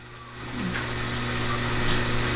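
A Whirlpool Cabrio washing machine with worn-out bearings runs its rinse cycle, giving a steady motor hum with tonal whine and a faint water swish that grows slightly louder, with no one speaking.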